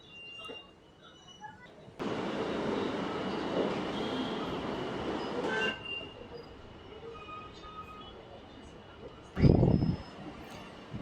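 A DEMU train out of Kacheguda runs along the track near the Secunderabad coach depot, a sustained rolling roar of wheels with a faint squeal, and a short loud burst near the end over quiet cabin noise.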